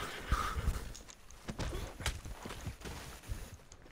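Horse hooves clip-clopping in the game Red Dead Redemption 2, a run of close irregular thuds with a brief whinny near the start, alone with no talk.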